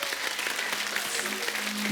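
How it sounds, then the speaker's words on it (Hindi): Studio audience on a Hindi comedy talk show breaks into steady, dense applause that fills the whole moment, loud and sustained with no pauses. "जीवन साहब के लिए जोरदार ताली हो"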